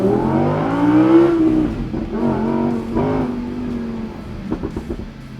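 An Audi R8 V10 Spyder in loud exhaust mode on the move, its V10 roaring close and strong with rising and falling revs and a few sharp throttle blips near the end.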